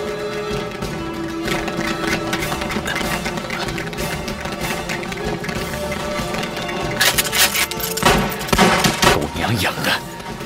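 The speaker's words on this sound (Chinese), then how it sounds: "枪声" Gunfire in a Chinese war film about the fight against Japanese troops: rapid, crackling bursts of shots over a steady musical score, growing denser and louder in the last few seconds.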